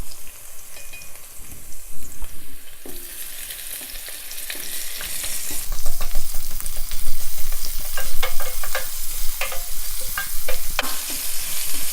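Onions added to garlic frying in oil in a pan for a vegan broccoli stir fry: a loud sizzle that surges as the onions go in, with stirring and scraping clatter.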